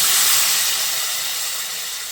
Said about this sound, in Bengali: এবার আমি এর মধ্যে পরিমাণ মতো জল দিয়ে দিচ্ছি।